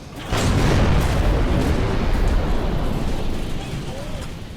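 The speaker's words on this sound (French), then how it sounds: "Major, ce canon n'arrête pas de tirer." Cannon fire in the video game Halo 3 comes as a dense, sustained roar of booming explosions with rumbling low-end bursts layered over one another, loud and close.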